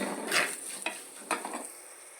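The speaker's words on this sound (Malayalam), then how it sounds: "ഒരു അര സ്പൂണോളം കുരുമുളക് പൊടി ഇതൊന്ന് മൂത്ത് വരട്ടെ" Coriander and pepper powder roasting in a pan for a sardine and ground coconut curry, with a soft steady sizzle, stirring scrapes and a few louder strokes.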